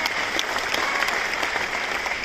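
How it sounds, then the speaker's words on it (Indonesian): A crowd at a campaign event in North Sumatra applauds warmly for a gubernatorial candidate, with dense, continuous clapping at even volume and no speech over it. "Kita berikan tepuk tangan yang meriah."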